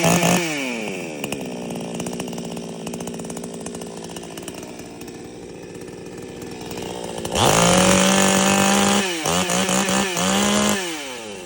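A Zomax 5450 petrol chainsaw engine runs close and loud, idling steadily, then revving hard in several sharp bursts with rising and falling pitch.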